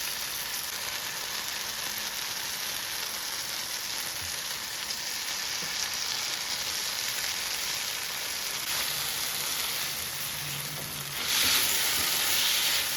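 Egg chilli dry fry sizzles in a pan with soy sauce and tomato sauce, a steady, even frying hiss that runs throughout and swells slightly near the end.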